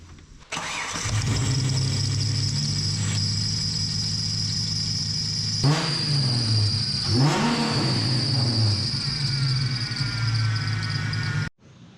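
A Holden Commodore car engine starts and idles steadily for several seconds, with a couple of brief revs partway through before cutting off at the end.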